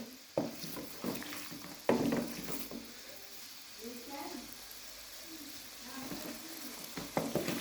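Yogurt for a Shinwari mutton karahi fries in hot oil with a soft, steady sizzle, broken by a few sharp clanks and scrapes of a spoon stirring against the pot.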